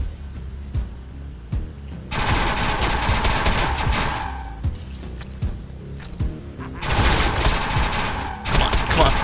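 Rapid bursts of fire from a fast-shooting gun in the video game Defiance: two long, loud automatic volleys separated by scattered single shots and mechanical clicks, with brief game sounds in the gaps.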